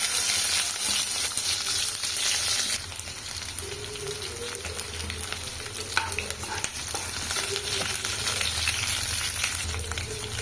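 Onions frying in plenty of hot oil at the start of a tomato curry, a continuous loud sizzle with repeated stirring scrapes and clatter.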